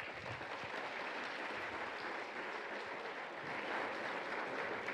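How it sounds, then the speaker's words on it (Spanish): A church congregation gives a long, steady round of applause during a Bible seminar, an even wash of many hands clapping throughout. "Un aplauso para el Señor."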